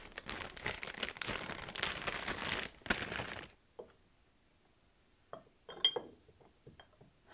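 Double-sided tape crinkles and rustles for a few seconds as a pre-made candle wick is stuck down in the middle of a glass jar, followed by quiet pauses and a few soft taps and clinks against the glass.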